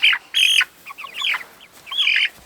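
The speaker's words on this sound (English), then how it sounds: "Come back here, chicken." Chickens cluck and squawk in agitated bursts as one is being caught on a pig farm, the calls close and loud in several separated outbursts with no talk.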